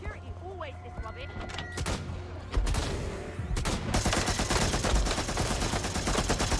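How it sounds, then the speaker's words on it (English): Gunfire in the video game Watch Dogs Legion: sustained rapid bursts of shots build into dense, loud automatic fire after a noisier opening with game effects, fairly close. "This sounds like gunfire."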